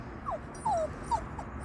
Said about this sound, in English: The most important thing we can do is ignore that whine.